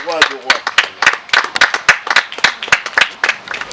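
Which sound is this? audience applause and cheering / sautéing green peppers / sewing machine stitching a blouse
audience applause and cheering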